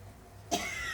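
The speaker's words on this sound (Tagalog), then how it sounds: "may ubo-ubo na naman ang lola niya" One sharp cough from an elderly woman breaks a quiet room, a single close burst followed by a faint lingering rasp.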